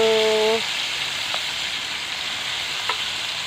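Tomato sizzles and fries in a hot pan for kinamatisang tuyo, a Filipino dried fish dish, a steady close hiss throughout; a brief tonal hum opens the sound, with a couple of faint clicks later.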